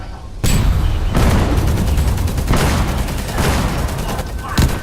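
Dense bursts of gunfire with heavy booms in a Roblox war game roll continuously, loud and close, with several sharp volleys punctuating the barrage.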